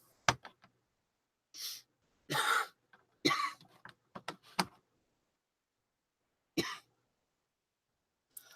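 Several short, sharp coughs in scattered bursts, a couple of them heavier and chesty, with quiet gaps and faint tapping in between.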